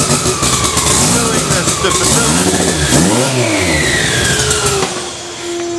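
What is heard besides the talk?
new engine revving on dyno, Mitsubishi Evo 8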